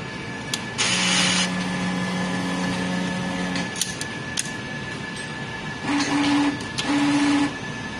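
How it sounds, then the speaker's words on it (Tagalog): A sublimation printer whirs and hums mechanically through a head-cleaning cycle, with repeated motor bursts and steady tonal whines in short stop-start phases. "Head clean."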